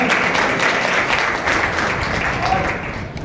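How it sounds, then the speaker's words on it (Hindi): A congregation at a special prayer meeting in a Dwarka church claps loudly and steadily, a dense crowd applause lasting throughout and easing slightly toward the end, with voices faintly mixed in. "जोर से ताली बजाइए।"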